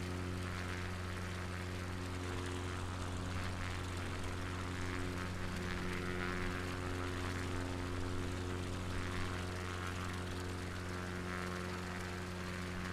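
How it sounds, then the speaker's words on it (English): A propeller aircraft comes in to land on a UK coastal tour near Exmouth, heard as a steady droning engine hum with strong low tones, constant and unbroken throughout, no voices. "this is going to be a very tight and tricky landing"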